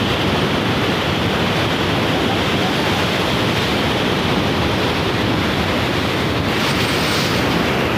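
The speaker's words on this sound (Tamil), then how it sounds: "ஃபுல்லாக தண்ணி பிச்சுட்டு போகுது." Heavy torrent of water rushing through the Bhavani barrage power station in Tamil Nadu, a loud, steady broadband roar that holds unbroken throughout with no voices.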